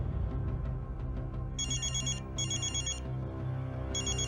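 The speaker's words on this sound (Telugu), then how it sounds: "12 గంటలకి అవినాష్ నుండి ఆమెకు ఫోన్ వచ్చింది." A telephone rings in repeated electronic bursts with short gaps between them, heard over a steady bed of background music.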